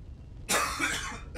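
A single harsh, close cough from a man who is sick bursts out after a quiet moment, with a shorter second catch at the end.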